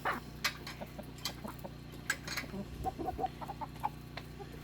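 Backyard chickens clucking near a Rhode Island Red rooster on an off-grid homestead, scattered soft clucks and short calls over a low steady background hum.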